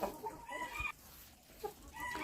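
Domestic hens and roosters, including Cochin crossbreeds, cluck softly nearby in short repeated calls, a quiet backyard flock with no talk.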